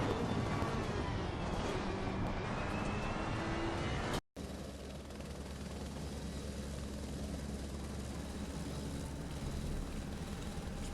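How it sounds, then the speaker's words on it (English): Racing Ferraris in Assetto Corsa Competizione run nose to tail at Imola on Xbox One, a loud continuous engine roar that drops out briefly and returns as a steadier, slightly lower drone. "It's all three Ferraris battling nice and hard, nose to tail."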